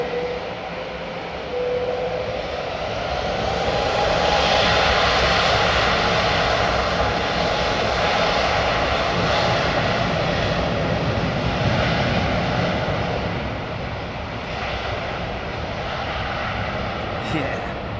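A Boeing 777 departs at close range, its jet engines building into a loud, broad roar that swells, holds for several seconds and slowly eases off, with people talking beneath the noise.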